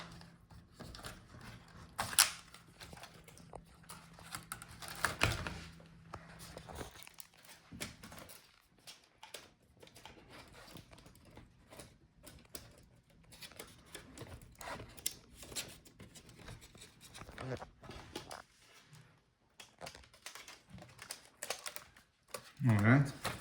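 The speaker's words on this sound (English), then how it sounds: "Now we should be able to take out the keyboard." A Dell Precision 7540 laptop keyboard is pried out of its palmrest, giving intermittent plastic clicks, snaps and light tapping, close up and moderately quiet over a low background hum.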